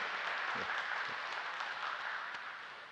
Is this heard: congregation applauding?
yes